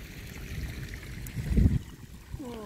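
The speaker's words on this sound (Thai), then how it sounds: "น้ำไหลน้ำไหลค่ะน้ำไหลอีกวันค่ะ" Water streams steadily into a large pond in Bangkok after overnight rain, a soft continuous trickle near the mic with a brief louder splash midway.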